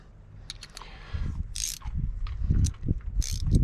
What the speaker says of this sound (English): I'm just gonna get these torqued up